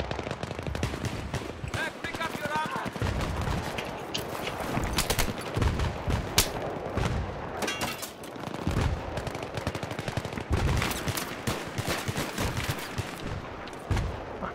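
Gunfire in Battlefield 3 on the Noshahr Canals map during a team deathmatch: repeated sharp shotgun blasts and rapid bursts of other weapons crackle throughout, loud and dense with short gaps.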